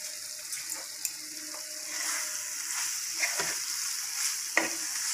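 Masala paneer with jaggery and curry leaves is stirred in a pan, a soft sizzle running underneath as a spoon scrapes and clicks against the metal in irregular strokes, close up with no talking.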